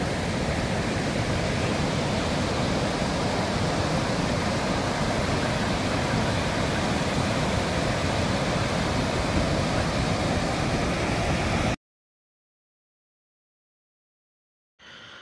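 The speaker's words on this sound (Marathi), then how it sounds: "तर हा जो धबधबा तुम्ही बघताय ना" Water roaring over an overflowing dam spillway, a steady, dense, close rush that fills the scene, then cuts abruptly to silence near the end.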